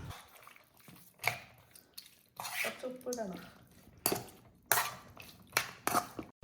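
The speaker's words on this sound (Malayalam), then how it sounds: "പിന്നെ ഇതൊരു സ്പൂൺ വെച്ചിട്ട് നല്ലോണം മിക്സ് ചെയ്ത് കൊടുക്കണം" A spoon clatters against a bowl while capsicum is mixed in, giving sharp, irregular clinks and scrapes with short pauses between, close by and fairly loud.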